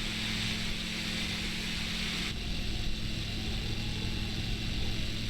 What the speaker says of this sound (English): Nice little tiny aircraft, single propeller, just flying out over.